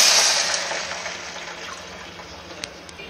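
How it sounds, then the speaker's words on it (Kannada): Water pours steadily into a hot cooking pan partway through making vegetable oats upma, a close, continuous rushing hiss that gradually eases, with a couple of small clinks near the end. "ನೀರನ್ನ ಹಾಕ್ತಾ ಇದ್ದೀನಿ ನಾನೀಗ."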